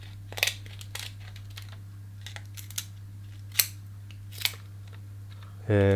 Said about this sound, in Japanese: あと甲羅の部分はできるだけ小さくハサミで切っていきます。